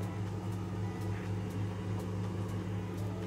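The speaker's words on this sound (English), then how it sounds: "Got the water boiling for my cup of tea in the microwave" A microwave oven runs steadily while heating water for a cup of tea, a constant low hum with a faint fan whir, close and unbroken throughout.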